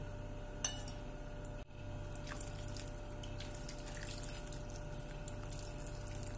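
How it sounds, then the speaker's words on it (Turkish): Water pouring steadily into a pot of İzmir köfte on the stovetop, a continuous rushing stream with a small clink of the pot near the start, close and fairly loud throughout. "Yemeğimizin suyunu bu şekilde ekledim."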